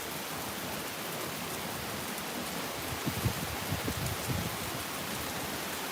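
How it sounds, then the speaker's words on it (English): Steady heavy rain hisses during a tropical thunderstorm, with strong winds of about 20 to 25 mph adding a few low, rumbling gusts midway through the wash of noise. "Now we're starting to have some really strong winds coming in with this rain"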